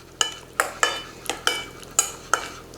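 Mashed avocado and lemon juice are mixed for avocado toast, heard as about seven close, evenly spaced utensil strokes against a bowl, each one a short scrape that trails off.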